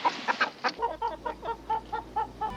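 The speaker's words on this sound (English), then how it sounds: "Relax, Kolchak, it's just a chicken" A chicken clucks in a steady run of about a dozen short, evenly spaced calls, close and fairly quiet, with a low hum joining partway through.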